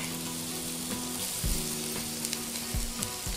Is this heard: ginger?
yes